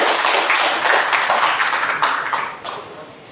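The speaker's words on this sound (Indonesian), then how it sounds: "Boleh kita kasih tepuk tangan sekali lagi untuk beliau." An audience at a wrestling association's provincial board inauguration ceremony breaks into steady applause that swells, then gradually thins and fades over a few seconds.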